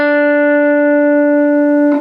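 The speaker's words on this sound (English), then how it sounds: "So an ordinary fretted note goes like this." A single fretted note on a Telecaster electric guitar rings out loud and steady, clean and sustained for about two seconds before a short scrape at the end.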